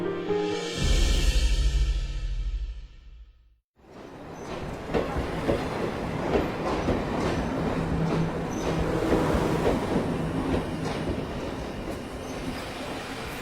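A train rumbles steadily along the rails with rhythmic clatter and faint wheel squeal, continuous and fairly close, after a brief fading tone and pause.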